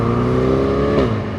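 A Chevrolet Corvette E-Ray hybrid sports car, about 1,721 kg, accelerates hard, its engine a loud, close, steady growl that climbs in pitch for about a second before briefly easing off.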